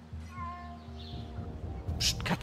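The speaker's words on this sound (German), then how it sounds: "Psst, Katze." A cat meows in Assassin's Creed Mirage, a few short tonal cries rising over a steady bed of game ambience, with a brighter burst of noise near the end.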